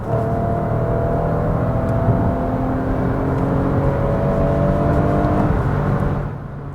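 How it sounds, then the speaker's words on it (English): A 2019 Lexus RX 350L engine revs steadily in sport mode, a close, even drone held for several seconds before easing off at the end, with no voices; the crackles and pops are not clearly distinguishable. "I did get a couple of crackles and pops from it."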